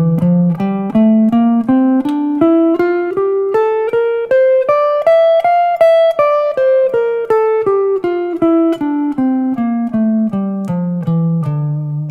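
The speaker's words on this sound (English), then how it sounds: "So let's look at the D natural minor scale." A D natural minor scale picked note by note on guitar, rising steadily for about six seconds and then descending back down, each note plucked cleanly and evenly in a moderate rhythm, played alone with no talking.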